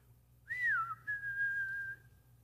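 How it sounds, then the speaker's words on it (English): A person whistles a family call meant to summon everyone home, a clear solo whistle that rises, dips, then holds a long steady note, close and fairly loud over faint room hum. "in our family, we had a whistle, and the whistle sounded like this"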